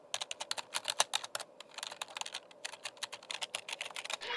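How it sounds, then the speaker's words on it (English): Rapid bursts of clacky keystrokes on a mechanical keyboard, close and crisp, coming in quick irregular runs with brief pauses between them, no voices. "I have a mechanical keyboard."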